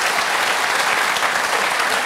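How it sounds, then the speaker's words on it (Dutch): Studio audience applause on a Dutch late-night talk show, a dense, steady wash of many hands clapping at full volume throughout, with no voices over it. "mooi, applaus"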